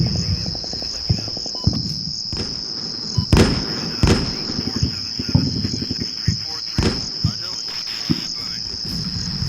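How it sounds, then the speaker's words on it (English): Gunfire in the video game Combat Mission: Shock Force: sharp shots and short bursts crack at irregular intervals over a steady insect-like chirring ambience, with one especially loud close report. "we're taking fire from the outlying buildings. pretty accurate fire as well."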